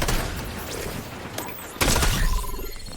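SMG gunfire from the Fortnite video game, in rapid bursts of shots loud and close, with crackling impacts and a sharper, heavier burst later on, no talk.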